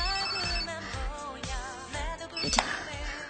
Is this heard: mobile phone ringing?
yes